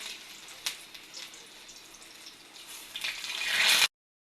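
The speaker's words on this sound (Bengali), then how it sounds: "কাঁকরোলটা ভাজা হোক" Bitter gourd (kakrol), stuffed on one side, frying in hot oil: a steady soft crackling sizzle with occasional pops, swelling louder near the end before cutting off.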